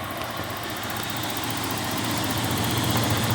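A truck engine idles steadily at close range, giving a continuous, even rumble with no speech over it.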